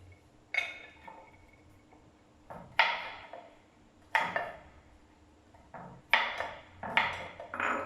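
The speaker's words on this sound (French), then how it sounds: "nous allons couper l'ail, le curcuma et le gingembre en petits dés" Knife chopping garlic, turmeric and ginger into small dice, sparse sharp taps on a board in irregular bursts with quiet gaps between, close and clear.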